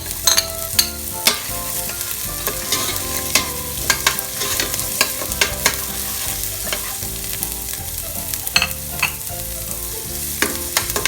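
Garlic, onion and celery sauté in a pan while being stirred for squid adobo, a steady close sizzle broken by frequent sharp clinks and scrapes of the utensil against the pan, with no voices.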